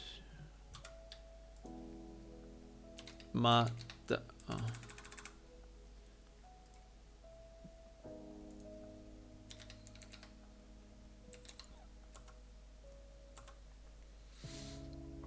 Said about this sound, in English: Yeah, Japanese keyboard.